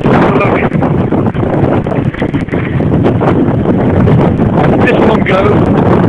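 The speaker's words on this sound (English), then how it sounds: "The wind's just going to blow me apart, I think." Strong wind buffets the microphone at a wind turbine site, a loud, constant roaring rumble with gusting surges throughout, and a voice is faintly audible amid the noise.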